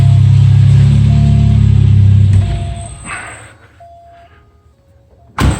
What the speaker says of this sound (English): So I'm going to shut the car off.